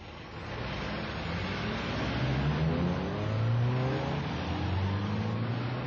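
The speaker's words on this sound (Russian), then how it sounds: "Машина, огромный металлический объект, проезжает по ним" A car drives over the road, its engine rising in pitch as it accelerates steadily past, a continuous mid-level rumble throughout.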